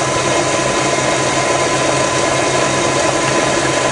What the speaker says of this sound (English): I'm going to operate the feed handle, and it feeds up just fine as well